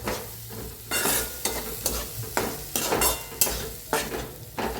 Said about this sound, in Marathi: ह्याला बी जरा असं भाजायचं बघा फोडणीत डाळीला